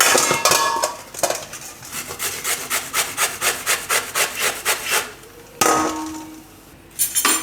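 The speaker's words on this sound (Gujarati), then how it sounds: "તો દૂધી આપણે છાલ કાઢી લીધી તો જેમાં આપણે ખીરું બનાવવાનું એમાં જ આપણે એને છીણી લેવું આ રીતે" Peeled bottle gourd is grated for kofta batter, rhythmic scraping strokes against a grater at close range, steady and evenly spaced, with a couple of louder clatters at the start and end.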